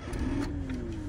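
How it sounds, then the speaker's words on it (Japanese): A car engine idles steadily with a low running hum throughout, close and continuous, while a portable power station is charged from an inverter in the car. "それではエンジンをかけてみます。"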